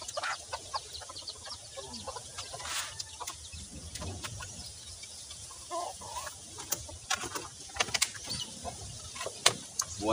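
Farmyard chickens, a hen with her chicks, clucking and peeping in irregular bursts at moderate distance in a rural countryside setting, with faint scattered knocks and background noise.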